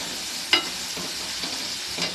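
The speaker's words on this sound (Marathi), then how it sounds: "आता हे आपण खालीवर करून घेऊयात." Food is stirred as it fries in a pan, giving a constant close sizzle broken by a few soft scraping strokes of the spoon.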